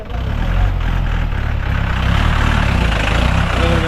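A vehicle engine labouring up a steep hill on a mountain trek route, a loud, continuous low drone that strains slightly louder midway, with no voices.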